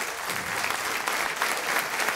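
A church congregation claps together in an offering of applause to the Lord during a sermon, a short, steady, full burst of clapping from a sizeable crowd.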